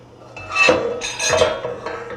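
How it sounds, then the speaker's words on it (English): Garlic and a little oil go into a pan on a front stovetop burner, heard as a couple of close metallic clinks and scrapes of pan and utensil, with no talk. "I'm going to take that, put them into my pan, along with a little bit of oil"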